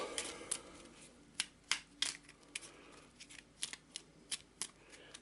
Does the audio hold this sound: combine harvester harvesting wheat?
no